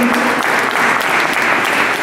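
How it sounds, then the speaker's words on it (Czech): Dense, steady audience applause fills the hall at a Three Kings charity concert in Lovosice, welcoming a choir with loud, continuous clapping that never lets up. "Přivítejte je velkým potleskem."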